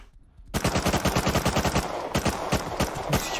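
Rapid automatic gunfire from the survival video game Rust, a dense, loud stream of repeated shots that starts abruptly after a brief quiet moment and continues steadily with no speech.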